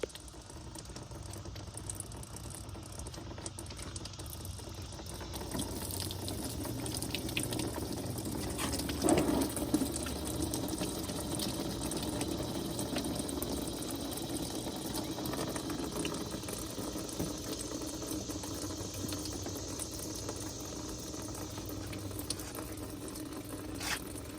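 Coolant pours fast out of the radiator drain of a 2007–2011 Kia/Hyundai 2.0 engine, a steady close splashing rush lasting throughout, with a few faint metallic clicks and no voices.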